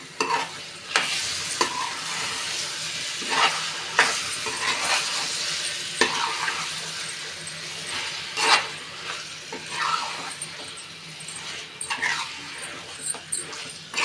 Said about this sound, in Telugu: వేసి దీన్ని ఇలా మిక్స్ చేసేద్దాం.